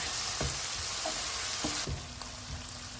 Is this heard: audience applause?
no